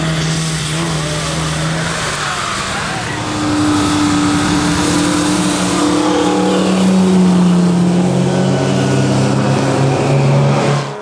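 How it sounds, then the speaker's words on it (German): A race car driving the Nürburgring in torrential rain, engine droning and shifting pitch as it accelerates, loud and close throughout with spray and wet road hiss, and a commentator speaking over it. "Der Regen nimmt zu und wird schließlich sintflutartig. Sturzbäche fließen über die Strecke."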